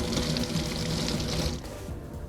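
Tap water runs steadily over fresh ginger root as it is rinsed, a close broadband splashing that stops abruptly partway through, with a low tonal hum underneath.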